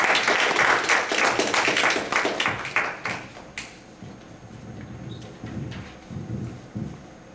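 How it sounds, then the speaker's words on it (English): A small audience gives a round of applause for a speaker at a Read or Die gathering, loud claps over the first few seconds thinning to scattered taps and fading into low room noise. "could we have a small round of applause for Brother Akibi?"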